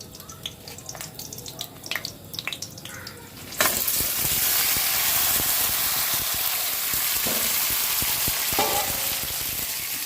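Onion and tomato for chutney hit hot oil partway through and start sautéing, setting off a sudden loud, continuous sizzle after a quieter stretch of handling and clinks.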